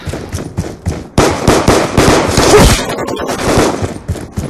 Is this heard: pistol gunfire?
yes